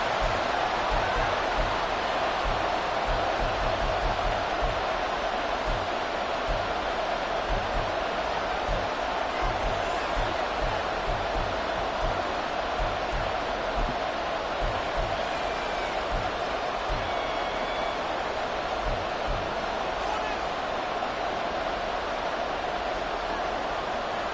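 Stadium crowd from a Madden 24 football game, a steady dense roar of cheering and noise filling the background throughout, fairly loud and continuous with rhythmic low thumps beneath.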